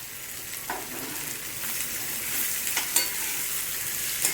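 Cabbage stir-fried in a hot pan for Manchurian, a steady broad sizzle with scattered scraping stirs and clinks of the utensil against the pan, close and alone with no talk.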